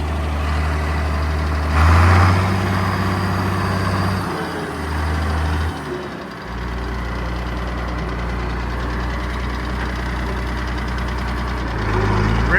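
A Farmall 1206 tractor engine runs steadily nearby, a loud low diesel drone that shifts in pitch and load partway through before settling into a continuous rumble.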